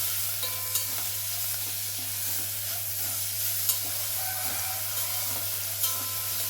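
Mint leaves with coriander leaves sizzle steadily in a hot pan, a dense, even frying hiss with soft stirring rustles over a constant low hum, no voices.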